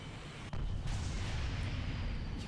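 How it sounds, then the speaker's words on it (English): A slipspace jump in Halo Reach charges and bursts open into a portal, a sharp onset followed by a rumbling, sustained roar that swells and holds. "you can see it charges and then opens a slipspace portal, and it brings you forward by a decent distance"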